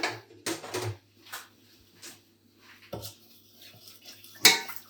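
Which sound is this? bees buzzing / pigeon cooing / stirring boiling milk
stirring boiling milk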